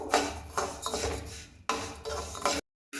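Ration rice being dry-roasted in a pan, stirred steadily so it scrapes and rasps against the metal in repeated strokes, close and fairly quiet, ending in a short silence.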